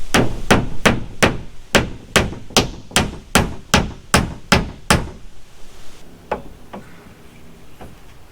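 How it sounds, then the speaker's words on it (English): A hammer drives a nail into T1-11 plywood siding with about eleven sharp, evenly spaced blows, loud and close. A couple of fainter taps follow before it goes quiet. "I'm going to go ahead and get a nail up at the top"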